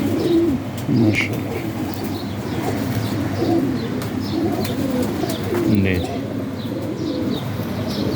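Pigeons in a loft coo repeatedly in low, rolling phrases, close and steady, while someone talks over them and faint chirps come and go.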